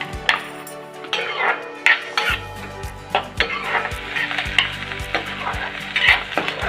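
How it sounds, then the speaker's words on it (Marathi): Onion sautéing in masala in a pan, with a steady close sizzle and frequent scraping, clinking strokes of a spatula against the metal pan throughout, no voices. "कांदा थोडा तांबूस होईपर्यंत परतून घ्यायचा"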